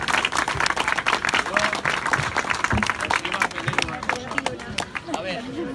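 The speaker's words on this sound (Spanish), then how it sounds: "Un aplauso para él también" A crowd at a memorial plaque ceremony for a sports club claps continuously, with sharp individual claps over a dense bed and some voices chattering underneath.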